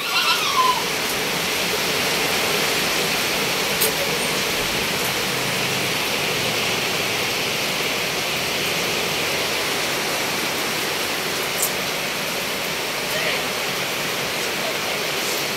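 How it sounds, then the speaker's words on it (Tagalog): Steady, dense hiss of heavy rain pouring without letup, loud and close, filling the whole stretch with no clear voices. "Bumuhos ang malakas na ulan"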